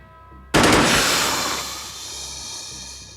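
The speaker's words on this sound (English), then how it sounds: "Ballistic rifle. Burst." A ballistic rifle in a video game fires a sudden loud burst of rapid shots that ends in a long hissing, rumbling decay, with no voices.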